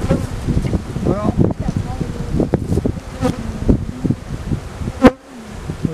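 A dense swarm of honey bees drones loudly and continuously from an open, crowded hive during a beekeeping inspection, close to the microphone, while people talk over the buzzing.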